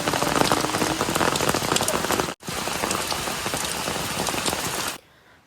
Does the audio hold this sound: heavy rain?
yes